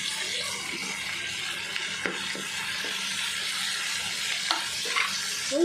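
Green chillies, mint, tomato and ginger-garlic sautéing in a pan for biryani, a steady soft sizzle with intermittent scraping and stirring clinks, fairly close and moderate.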